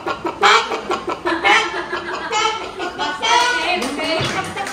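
A child imitates a hen, producing a loud, close series of rhythmic clucking bursts voiced one after another.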